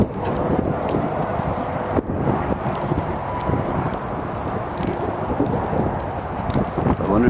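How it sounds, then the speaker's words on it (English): Strong wind blows hard across open range land near a brush fire, a steady broadband roar and rumble with gusty buffeting on the microphone that continues throughout the clip. "That wind's blowing hard."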